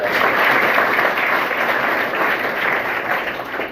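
Loud, dense applause from an audience at a school event honouring Babasaheb, a steady roar of many hands clapping close by that holds evenly and eases slightly toward the end.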